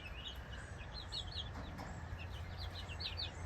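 Young chicks chirp in a steady overlapping chorus of short, high peeps, with soft clucking mixed in and a constant low background hum, fairly close and even throughout.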